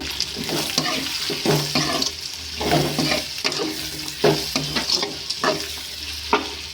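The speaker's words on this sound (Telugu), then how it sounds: "టమాటో ఒక అర్ధము ఫ్రై చేసుకోండి" Tomato fries in a pan for umpa, a steady sizzle with repeated scraping strokes of a spoon stirring it, close and fairly loud with no talk.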